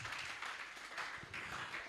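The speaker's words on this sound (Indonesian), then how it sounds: "Oh, oke, tepuk tangan semuanya." Congregation applauding at a live church worship service, a steady wash of clapping from many hands that holds at an even level throughout with no speech over it.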